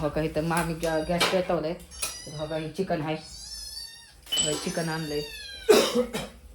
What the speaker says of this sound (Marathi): इथं खालती मांजर ओरडते हो बघा तिथं खालती मांजर आहे